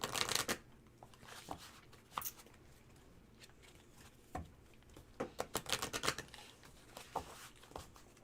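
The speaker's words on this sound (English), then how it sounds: "All right, last shuffle." Lenormand cards shuffled during a tarot reading, with bursts of quick riffling and flapping separated by short pauses and soft handling noises, close and crisp.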